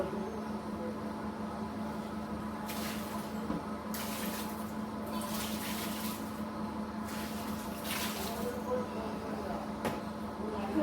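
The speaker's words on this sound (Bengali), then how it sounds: "জল আসুক" Water runs steadily from a kitchen tap into a sink drain, a continuous hiss with brief louder gushes, heard alone without talk.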